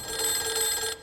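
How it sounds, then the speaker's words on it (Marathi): A telephone rings with a steady bright bell tone in a Konkani comedy sketch, one continuous ring lasting about a second that cuts off abruptly at the end, clear and fairly close with no talk over it. "फोन येतच बळा"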